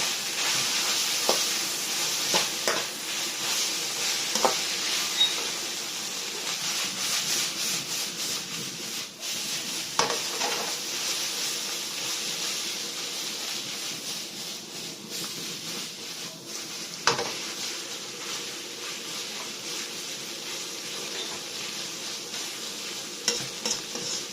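Noodles and vegetables stir-frying in a pan, a continuous dry sizzle with repeated scraping and tossing strokes of a utensil against the pan, close and steady throughout with no talk.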